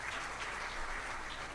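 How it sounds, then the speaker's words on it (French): Audience applause at a presidential address ceremony, a dense, steady wash of clapping from many hands with no voices over it. "Ça s'applaudit très fort,"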